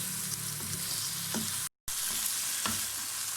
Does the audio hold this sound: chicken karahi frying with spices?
yes